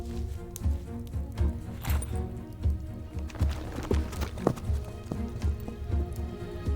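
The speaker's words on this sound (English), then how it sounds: "he left them to take to his horse and rode away" Horse ridden away in an audio drama, hooves clip-clopping in a steady, rapid, even rhythm on a hard surface, close and prominent throughout with no voices.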